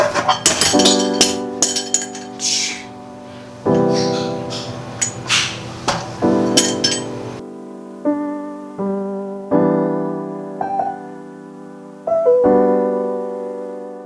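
Cannabis buds clink and knock into a glass jar in a quick run of bright strikes, then a steadier series of ringing glassy taps with lingering resonance, fairly close and with no talking.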